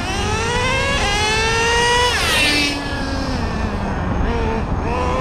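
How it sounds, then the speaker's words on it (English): A Traxxas Revo John Deere Edition RC truck with a 2-speed transmission, engine screaming up through the revs, dropping pitch at the gear shift and climbing again, loud and close. "Such great acceleration, straight launch, perfect 2-speed shifting point."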